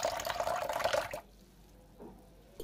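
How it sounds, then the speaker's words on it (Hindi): Half a glass of water poured into onion juice in a kitchen bowl, a close, steady splashing pour lasting about a second before stopping abruptly. "अब हम इस जूस में डालेंगे हाफ गिलास पानी"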